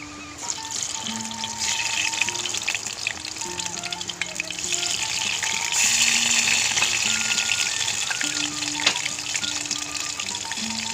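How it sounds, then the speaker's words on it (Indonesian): Sweet potatoes fry in oil at a riverside outdoor setting, giving a steady, fairly loud sizzle and bubbling hiss with watery trickling textures throughout, continuous with no pauses. "Kita goreng lagi yang berikutnya."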